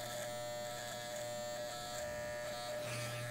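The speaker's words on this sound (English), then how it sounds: "turn the clipper around and shave up" Electric hair clippers hum steadily and close up throughout a men's undercut haircut, a continuous even buzz with no talking over it.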